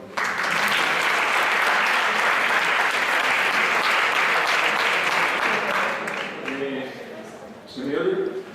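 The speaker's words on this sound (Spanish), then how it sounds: "Un aplauso, por favor." An audience at a conference applauds loudly and continuously for about six seconds, then the clapping thins and fades as a speaker begins talking over the last scattered claps.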